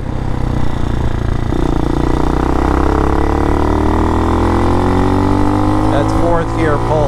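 A Hawk DLX motorcycle with Delphi EFI pulls hard in fourth gear on a test drive, its engine note rising steadily and loud throughout, with constant wind rush over the mic.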